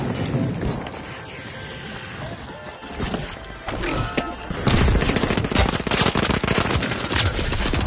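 Pistol gunfire in the video game The Finals, with rapid loud shots and impacts that build into a dense crashing burst of firing and smashing in the second half.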